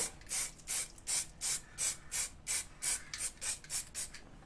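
A steady series of about a dozen short hissing bursts of spray glue on a model forest floor, evenly spaced and close, with a soft rasping quality between them.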